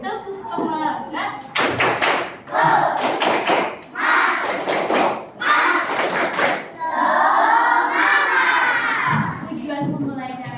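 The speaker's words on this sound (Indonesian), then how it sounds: "Tepuk semangat." A fourth-grade class in an elementary school performs a patterned spirit clap, with bursts of loud, rhythmic clapping and thumping mixed with children's chanting and shouting voices, in a lively, echoing classroom.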